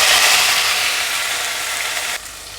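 Ground raw onion paste, three large onions, hitting hot oil and ghee for a paneer kurma, giving a loud, steady broadband sizzle that eases slightly and then drops in level near the end, with no talking.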